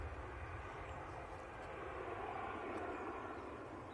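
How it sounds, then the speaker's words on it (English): An EasyJet Airbus A319 airliner taxiing past at an airport, a steady, fairly faint jet engine rumble and whine heard from a distance, with no one talking. "EasyJet A319's been sneaky. I didn't see that one taxi past."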